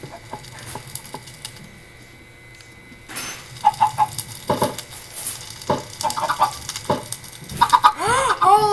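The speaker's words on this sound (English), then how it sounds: "That was like 4 baby chickens in that one." Chickens clucking and pattering in a Minecraft-style video game, with a fire burning, scattered short clucks and chirps rising after a quiet start, fairly close and busy toward the end.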